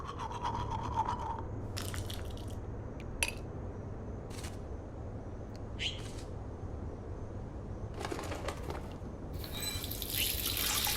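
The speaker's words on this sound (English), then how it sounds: "Feels so good to wash my face after all that chlorine." Running water at a bathroom sink in the Life is Strange video game, with steady splashing as a face is washed and a few louder spurts and gushes over a continuous flow.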